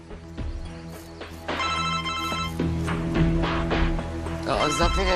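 A phone ringtone plays a looping electronic melody, fairly loud and close, with a few soft taps or footsteps beneath it.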